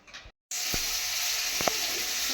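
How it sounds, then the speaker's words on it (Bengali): An egg fries in a pan with a steady, bright sizzle, loud and close, broken by a couple of sharp crackles after a brief silence at the start. "ডিম ভাজা হয়ে গেছে"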